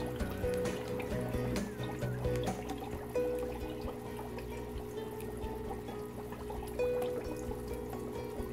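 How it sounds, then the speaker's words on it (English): Water from a small fry fish tank trickles and pours into a container, a soft continuous dribble heard faintly and close beneath steady background music tones. "I'm going to dump the water in here."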